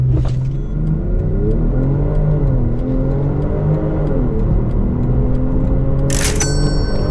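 BMW X5 40i SUV launching from a standstill on a 0-100 km/h run, its engine note rising steadily through the gears, loud and close, with a short bright click near the end.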